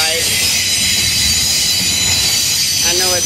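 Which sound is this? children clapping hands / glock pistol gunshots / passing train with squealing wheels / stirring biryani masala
passing train with squealing wheels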